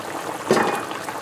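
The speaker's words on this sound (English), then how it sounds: "And it's bubbling away." A pot of mango curry boils on the stove, with a brief bubbling gurgle that swells and fades over a low, steady simmer.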